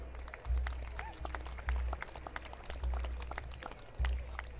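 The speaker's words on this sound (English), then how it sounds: "A big round of applause, please." Applause from the crowd at an outdoor pipe band championship in New Zealand, a steady patter of clapping over a low rumbling hum with periodic thumps, moderately distant.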